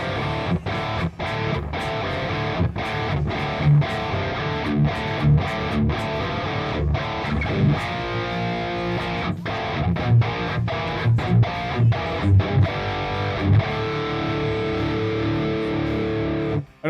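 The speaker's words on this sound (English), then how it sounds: "I don't need quite that much distortion." A heavily distorted electric guitar with Seymour Duncan Invader pickups, played through an amp simulator, plays thick, saturated punk and rock chords and riffs, loud and continuous, with brief rhythmic stops between phrases.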